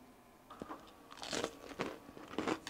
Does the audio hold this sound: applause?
no